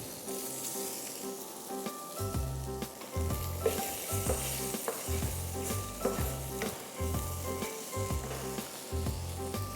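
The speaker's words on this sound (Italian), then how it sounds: "e rosoliamo mettiamo lo sgombro," Mackerel sizzles in hot oil in a frying pan, a steady close crackling hiss broken by repeated low scraping and stirring sounds, with no voices.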